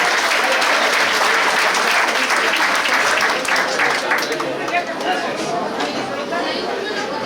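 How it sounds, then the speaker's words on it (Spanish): Loud, dense applause from an assembly audience fills the whole stretch, steady and continuous with crowd chatter mixed in, tapering slightly toward the end. "Les agradecemos un aplauso para el compañero Mario Benítez."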